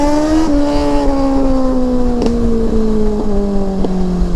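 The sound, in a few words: loud motorcycle exhaust popping flames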